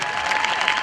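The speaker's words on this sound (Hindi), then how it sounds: "श्रवण सिंह शेखावत के लिए ताली बजाई जाए" An audience claps for a cadet at a self-defence session, a dense burst of close, loud applause filling the whole short moment without pause.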